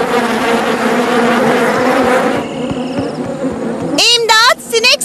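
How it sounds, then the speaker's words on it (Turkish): A swarm of cartoon flies buzzes loudly and steadily for the first half, thinning out before squeaky cartoon voices and sound effects break in near the end. "Sinek bulutu."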